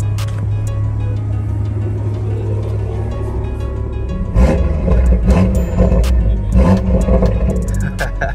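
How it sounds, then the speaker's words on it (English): A Toyota A90 Supra with a Magnaflow cat-back exhaust and catless downpipe, essentially straight-piped, revving: a deep, loud engine roar that swells and surges, with turbo sounds over a steady rumble. "It's deep, good turbo noise is the main thing."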